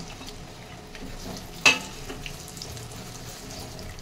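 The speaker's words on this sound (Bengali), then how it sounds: "তেল গরম হয়ে গেছে, এবার আমি পেঁয়াজ কুচানোগুলো দিয়ে দেব।" Chopped onions fry in mustard oil in a kadai, making a low, steady sizzle broken by one sharp clink of a utensil.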